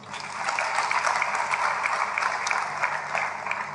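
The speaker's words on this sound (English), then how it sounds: "Clap for him." Church congregation clapping at a service, a dense, steady round of applause from many hands that stays fairly close and continuous throughout.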